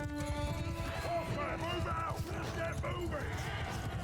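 Cavalry horses in the Mount & Blade II: Bannerlord battle game, with hooves clip-clopping amid a dense, loud battle din, with whinnying and crowd noise mixed throughout and no clear gap.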